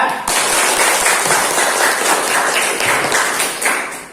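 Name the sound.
class applauding group 2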